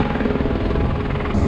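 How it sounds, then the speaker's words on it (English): A helicopter idles on the windy shore of Lake Alta, its engine and rotor making a loud, steady, close whirring drone with no break and no voices. "so that helicopter can't go yet."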